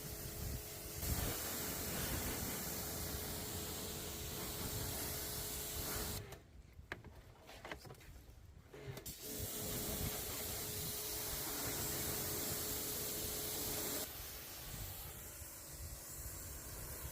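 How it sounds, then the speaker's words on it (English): A pressure washer hisses loudly in a steady spray onto a car, cutting out briefly midway before resuming, close up with no talking. "Make sure you also liberally spray down behind the rear license plate"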